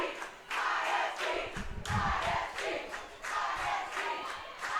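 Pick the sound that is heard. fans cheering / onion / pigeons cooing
fans cheering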